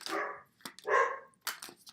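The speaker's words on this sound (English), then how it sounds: "you might hear a dog barking" A dog barks three times in short bursts with pauses between, fairly close and clear, with no talking.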